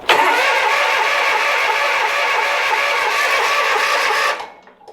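Car engine cranking on a tree-damaged vehicle after repairs, with a fuel-delivery problem, the starter grinding loudly and steadily for about four seconds before cutting off, with no voices.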